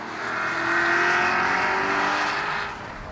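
Maserati Quattroporte Sport GT in sport mode accelerating hard near 7,000 RPM through the shift from second to third, a loud, close, rising engine roar that swells and then eases off briefly at the gear change.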